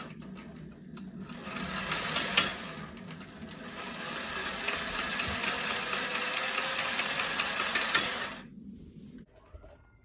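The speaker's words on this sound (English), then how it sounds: "I'm just gonna get the Sawzall on it instead of trying to do it by hand" A reciprocating saw (Sawzall) cuts on a Kawasaki KZ750 engine head during a stripped spark plug thread repair. It runs as a fast, steady buzzing rattle for about eight seconds, loud and close, then stops abruptly, leaving quiet shop ambience.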